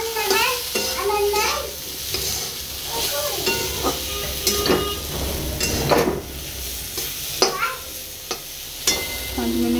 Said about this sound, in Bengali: এরপর এটাকে ভালোভাবে ভেজে নেব।